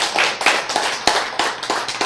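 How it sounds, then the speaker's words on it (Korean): Audience clapping in a lecture hall during a health talk, a short burst of scattered hand claps at close range, irregular and fading after about two seconds. "박수! 예, 네, 이렇게."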